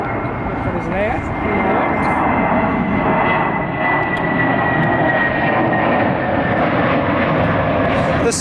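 A Boeing 787 jet airliner at Atlanta airport produces a loud, continuous engine roar and broadband rush that holds steady throughout, with a faint rising whine near the start.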